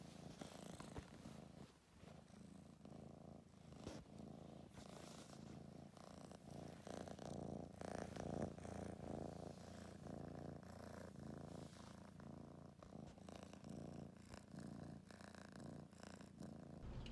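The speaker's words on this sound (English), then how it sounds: "Such a purr machine." A cat purrs steadily and very close, a soft continuous rumbling vibration that rises and falls with each breath, with no other sounds.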